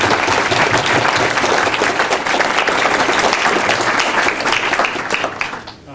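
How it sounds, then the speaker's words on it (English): An audience at a public presentation on Nashville's transit plan breaks into steady, dense applause that carries at full strength for several seconds, then tapers off at the end. "please join me in a round of applause"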